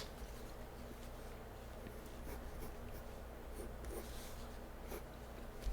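A 2B pencil sketches lines on paper in a continuous, faint scratchy rustle of strokes, close up over a low background hum.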